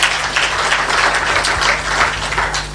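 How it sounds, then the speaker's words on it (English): A crowd at a network launch event bursts into dense, sustained applause, loud and even throughout, many hands clapping at once. "A clap for him."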